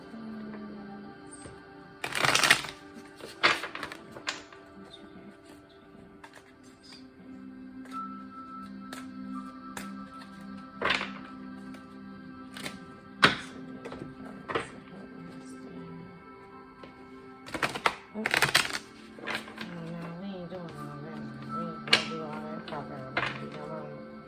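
Tarot cards are shuffled softly and irregularly, with sharp riffling bursts and snaps rising over a quiet background while a low tone hums along.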